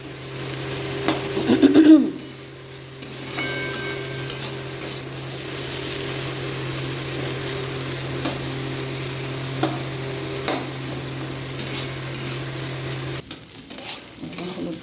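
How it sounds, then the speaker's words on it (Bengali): Potatoes and onions frying in a pan in a home kitchen, a steady sizzle with a clattering stir near the start, utensil scrapes, and a constant low hum underneath, no talking. "চলো আলু পেঁয়াজ ভাজা করছি"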